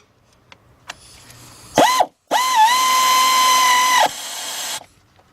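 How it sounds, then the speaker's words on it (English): An air ratchet spins spark plugs out of a 2000 Ford Excursion 5.4 engine, sounding as a short whirring burst, then a brief pause and a longer sustained pneumatic whine, loud and close, followed by a trailing hiss. "This is why it's good to have a cordless or an air ratchet"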